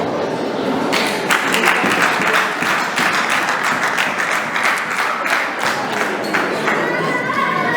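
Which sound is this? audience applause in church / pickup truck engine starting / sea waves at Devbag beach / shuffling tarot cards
audience applause in church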